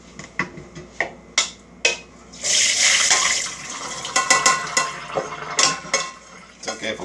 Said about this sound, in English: We'll do this about 4 or 5 times until the water starts to run kind of clear.